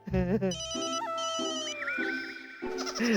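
Telephone ringtone in a Hindi comedy cartoon, a sustained electronic melody of repeating tones that plays for a few seconds with voices and other cartoon sounds underneath.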